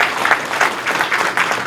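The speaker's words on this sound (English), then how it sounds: "I want to give the panel a round of applause." Brief applause from a town hall audience for a panel, a short burst of many hands clapping at moderate, even loudness.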